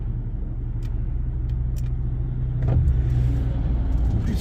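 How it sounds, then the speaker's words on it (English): Heavy low engine rumble and road noise from inside a vehicle driving near a big truck at night, steady throughout and swelling a little partway through. "Can't you see around that big truck down there?"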